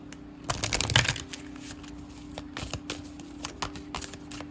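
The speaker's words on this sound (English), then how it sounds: "Give it a good shuffle." Rapid bursts of card shuffling, a riffle of flicking cards followed by a few lighter rustles and taps, close and clear over a steady low hum.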